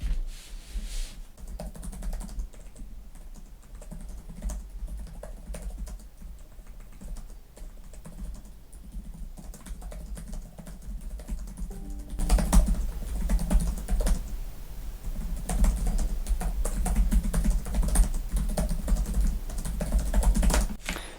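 Typing on the keyboard of a Lenovo ThinkPad E16 Gen 3 budget laptop, a steady run of close, soft key clicks that grows louder and busier partway through, with no talking.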